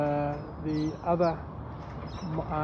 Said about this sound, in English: down here we've got a young family of sparrows